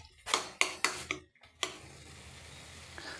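A spatula clacks against the pan four or five times in quick succession while garlic and fenugreek leaves are stir-fried in a peanut, sesame and lentil gravy for a dhaba-style dish, then a soft, steady sizzle continues alone.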